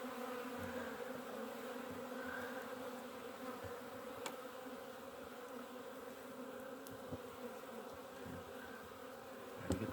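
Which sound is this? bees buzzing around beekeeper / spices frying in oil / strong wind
bees buzzing around beekeeper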